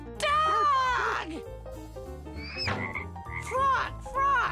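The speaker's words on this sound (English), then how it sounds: "Frog! Frog!" A cartoon-style frog croaks in a children's wild-animal learning piece, a few drawn-out, voice-like croaks in separate bursts with soft music underneath.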